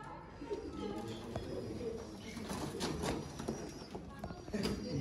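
Sialkoti pigeons coo softly in a loft, low throaty calls repeating amid rustling and background noise, with someone talking over them.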